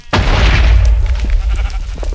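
A loud, booming burst from Minecraft fire striking a sheep, with a bleat blending into the blast. The hit lands sharply, then fades into a sustained rumble close up.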